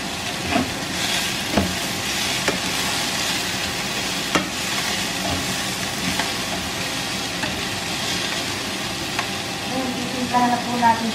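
Green peas and celery stir-frying in a pan for pancit canton, with a steady sizzle and occasional stirring clatter running close and fairly loud throughout, under light background noise.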